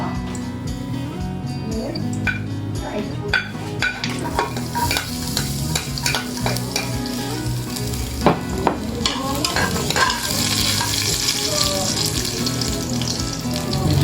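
Garlic sautéing in oil in a pan, a continuous sizzle with repeated scraping and stirring clatters of a utensil, close and busy throughout, faint background voice.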